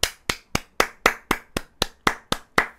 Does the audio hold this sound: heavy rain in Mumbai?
no